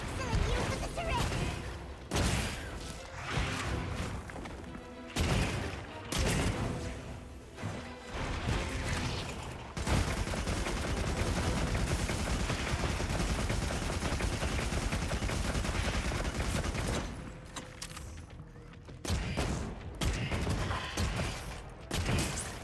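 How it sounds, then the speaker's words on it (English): Heavy turret fire in a video game pounds out sustained bursts of rapid gunfire with crashing impacts, loud and dense through the middle stretch, broken by brief pauses near the start and end. "Excellent use of the turret."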